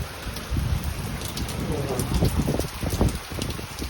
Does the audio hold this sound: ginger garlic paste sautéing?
no